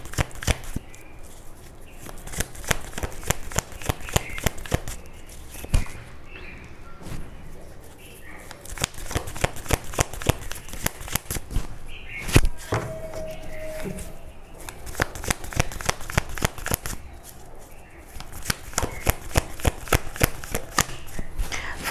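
Tarot cards shuffle and slap down one after another in quick, crisp, close-up bursts at a Hindi tarot reading table, sustained throughout with brief pauses between runs.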